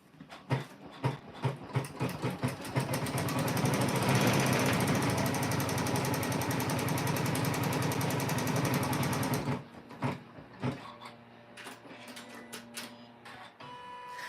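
Janome M17 embroidery machine stitching an in-the-hoop quilt block: rapid needle clatter starts in bursts, runs loud and continuous, then stops and gives way to softer intermittent mechanical clicks.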